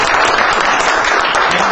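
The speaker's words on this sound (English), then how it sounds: "he deserves a round of applause" Audience applause at an election forum in Chicago, a steady, dense wash of clapping filling the whole stretch at close range, with no break or voices standing out.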